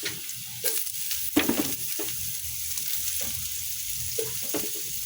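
Onions sizzle in a hot frying pan while a utensil scrapes and stirs them in short, uneven strokes, fairly close and moderately loud over a steady hiss.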